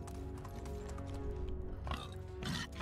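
A ridden horse clip-clops along in Medieval Dynasty, quiet rhythmic hoofbeats under faint background game ambience.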